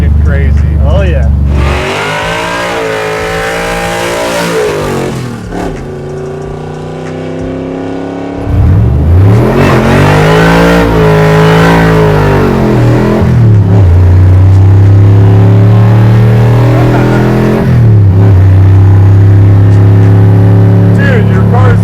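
A 1,000-horsepower Hellephant-powered Dodge Charger engine revs loud and close, its deep roar rising and falling through repeated sweeping pulls, with people talking over it.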